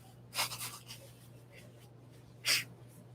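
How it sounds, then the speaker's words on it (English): A person sneezes during an outdoor live recording, with a sharp, breathy burst followed by smaller snorts, then a second sneeze a couple of seconds later, both close over a quiet low hum. "You would sneeze on camera and not worry about it."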